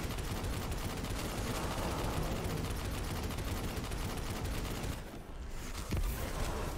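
Precision shots from a keyboard-and-mouse game of Destiny 2 streamed in a Chrome browser crack through a steady wash of game noise, continuous and fairly even, with a brief dip near the end before firing resumes.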